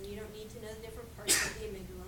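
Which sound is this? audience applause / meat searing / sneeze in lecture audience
sneeze in lecture audience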